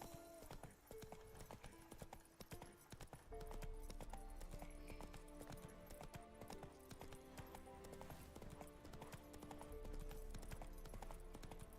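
Horse hooves clip-clopping in The Witcher 3 as Roach trots, a steady rhythmic patter over continuous game music, with an occasional faint whinny.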